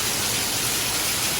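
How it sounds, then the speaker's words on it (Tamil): Heavy rain pours outside a house in the US, heard as a loud, unbroken wash of hiss that stays even throughout, with no talking. "கொட்டுன்னு கொட்டுது மழை"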